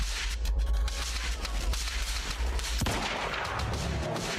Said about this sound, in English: Yeah, I'm just shooting that one because I can.